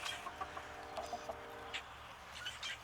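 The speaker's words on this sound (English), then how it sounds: "This is what chickens look like taking a dust bath." Soft, scattered clucks and little chirps from chickens, quiet and fairly close, with a faint steady hum in the background.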